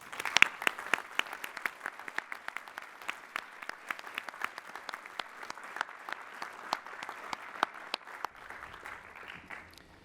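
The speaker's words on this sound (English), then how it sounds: "Please recognize the Doctors of Philosophy with your hearty congratulations and applause." Commencement audience at a university spring graduation applauds new Doctors of Philosophy, a long steady wash of many hands clapping with sharp individual claps popping out, tapering slightly near the end.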